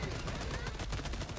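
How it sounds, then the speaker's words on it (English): Pump-action shotgun fire in the video game Helldivers 2, a dense, loud barrage of blasts and gunfire filling the whole moment with no pause between shots. "So far, the pump action shotgun is just ridiculously OP compared to the other weapons."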